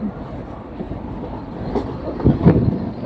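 A train rolling into Viraniyaloor station on the Thiruvananthapuram–Nagercoil line, heard from on board as a steady close rumble with rhythmic wheel clatter that swells slightly toward the end.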